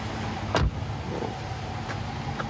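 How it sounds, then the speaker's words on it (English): A police car door swings shut with a single solid thud on a roadside stop, a short sharp slam over a steady idling vehicle hum. "I'm going to close the door."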